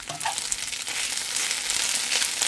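Chopped onion and rice fry together in a hot pan, the onion starting to burn, giving a steady, loud, dense sizzle that continues without pause and with no voices.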